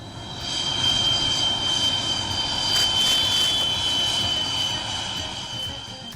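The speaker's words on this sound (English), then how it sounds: "MiG-21 bows out in style. The final flight, led by Air Chief Marshal AP Singh" A MiG-21 jet fighter on its final flypast at an Indian Air Force decommissioning event, a broad roaring engine rumble that swells to a peak and slowly eases off, heard from the ground.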